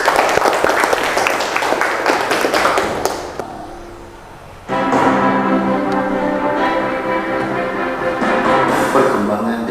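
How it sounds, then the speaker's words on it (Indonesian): A group claps in applause in a classroom-style session, a dense burst of clapping that fades briefly before a second sustained round of applause resumes loudly. "tepuk tangan."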